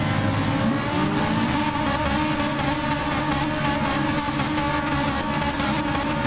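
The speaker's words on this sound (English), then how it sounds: "So the cars will slowly begin to rev up as the lights come on." A full grid of race cars revs at the standing start of a simulated touring-car race at Catalunya. The dense, continuous drone of many engines holds loud and steady throughout, with layered buzzing tones and no voices.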